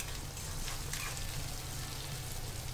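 Onions gently frying on a low flame in a pan for a Tamil-style snakehead fish feast, a soft, steady sizzle and crackle with no talking.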